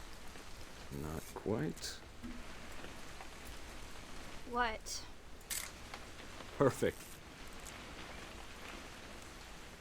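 Steady rain hisses throughout a scene in the video game What Remains of Edith Finch, a soft, even wash under intermittent spoken voices and a few brief sharp clicks.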